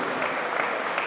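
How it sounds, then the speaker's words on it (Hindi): A brief burst of loud, dense audience clapping for a poet at a poetry gathering, continuous and close for about a second. "इन्हें ज़ोरदार तालियां इनके लिए बजनी चाहिए।"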